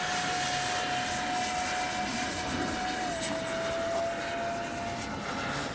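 A Freewing F-14A Tomcat, a twin 64mm EDF RC jet, flies overhead with a loud, steady ducted-fan whine and a sustained high tone that dips slightly partway through.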